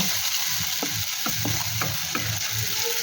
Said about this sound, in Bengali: হালকা আঁচে ভালো করে নেড়ে নেব।